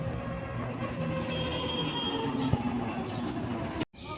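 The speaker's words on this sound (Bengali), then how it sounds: "উপরে দেখুন ট্রেন চলে যাচ্ছে" A metro train near Dum Dum station rumbles steadily as it passes on the overhead track, a continuous rolling noise under street ambience that cuts off abruptly near the end.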